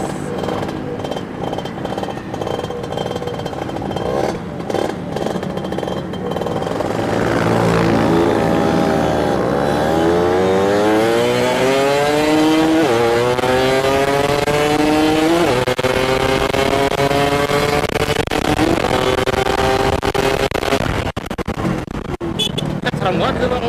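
A Yamaha F1Z-R two-stroke motorcycle with ported engine and racing gear ratio revs hard nearby, its buzzing, crackling engine note rising and falling through repeated sweeps over continuous loud noise.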